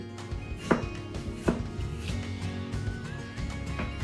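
An onion is chopped on a board for a braised cabbage dish with smoked pork ribs. A few sharp knife knocks land irregularly over steady kitchen background noise, close and moderately loud.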